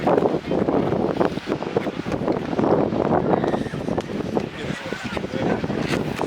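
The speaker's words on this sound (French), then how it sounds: "comme d'hab, il y a du vent" Steady wind buffeting the microphone in a park, a continuous low roar with gusty fluctuations throughout.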